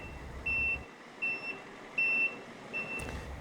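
A school bus's backup beeper sounds four evenly spaced electronic beeps as the bus reverses into a stall, over a low engine rumble and faint outdoor background.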